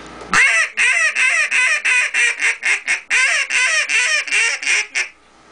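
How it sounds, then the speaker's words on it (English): A loud, close duck call blown in a high-pitched Cajun squeal, a rapid run of about a dozen high, squealing notes, grouped in quick bursts with brief gaps. "with that Cajun squeal, it sounds, you probably never heard a duck do that"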